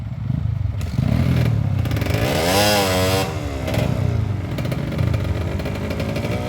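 A dirt bike engine revs hard close by, climbing and dropping in pitch as it is ridden over rough ground, loud and continuous with some clatter.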